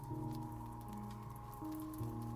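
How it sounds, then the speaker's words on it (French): Light, fine rain falling on irregular Montmartre cobblestones, a soft continuous patter under a quiet, steady musical drone. "Une petite pluie fine et argentée caresse tendrement les pavés irréguliers"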